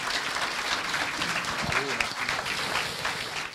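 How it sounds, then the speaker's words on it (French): Audience applause after a conference talk on ADHD and schooling, moderately distant clapping from a crowd with a voice briefly speaking over it. "Je vous applaudis."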